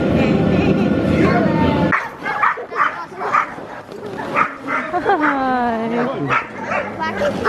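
Sled dogs waiting before a dog sledding run bark and yip in an excited, uneven chorus, some close and loud with rising whines, while people talk over them.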